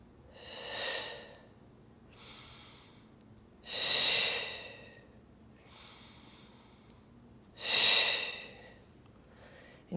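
Breathing during a standing mat pilates exercise: three strong, close exhales spaced about every four seconds, with softer inhales between them and no talking.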